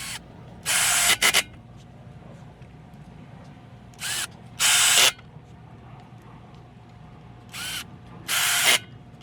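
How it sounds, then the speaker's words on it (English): A ratchet driving screws into a Thule T2 Pro bike rack, three bursts of rapid clicking, each a short run then a longer one, close and crisp against quiet room noise. "get your 4 screws and screw it from the bottom going up"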